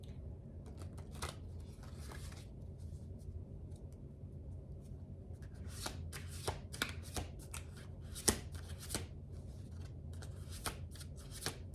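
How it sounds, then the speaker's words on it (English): A deck of cards is shuffled close by, with quiet riffles at first, then a burst of sharp, rapid card flicks and snaps that grows busier toward the end. "this deck doesn't want to give me any cards, so I think that I'm going to pull some from this one"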